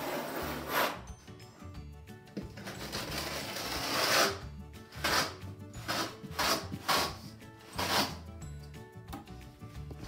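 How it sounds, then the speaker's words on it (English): Flat side of a steel trowel scraping excess cement from behind a linear shower drain band, giving a run of short rasping strokes, some sharp and loud, in uneven rhythm, close up with no talking. "Use the flat side of the trowel to remove all excess cement behind the band."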